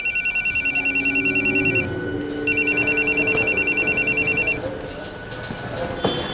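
A telephone rings in rapid electronic trills, two long bursts separated by a short pause, then stops, leaving faint room tone.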